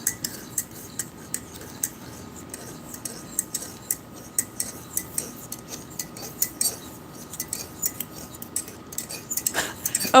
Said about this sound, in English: I'm going to go ahead and give this a stir.